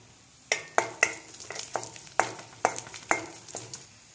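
Dried red chillies frying in a little oil in a pan, with a series of sharp stirring scrapes and clatters at an irregular pace over a soft sizzle, close and distinct.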